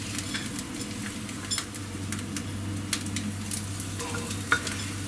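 Smelt fish frying in a pan, giving a steady close sizzle with occasional sharper crackles and pops and no voices.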